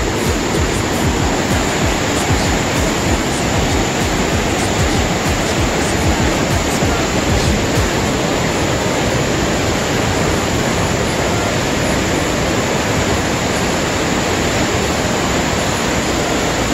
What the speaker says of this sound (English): Complete white water.